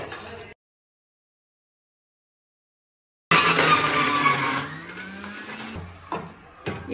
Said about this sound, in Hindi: और ये है मिक्सी।